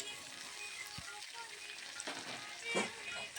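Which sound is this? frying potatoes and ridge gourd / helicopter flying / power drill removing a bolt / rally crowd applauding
frying potatoes and ridge gourd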